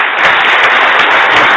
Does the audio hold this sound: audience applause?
yes